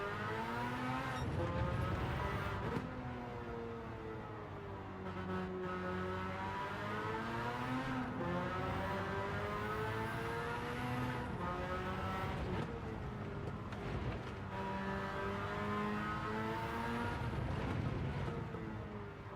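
A race car engine with a high-rev turbo setup howls in a sim racing game on the Deep Forest track, revving up and down in long rising and falling sweeps, loud and continuous.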